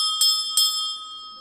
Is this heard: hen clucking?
no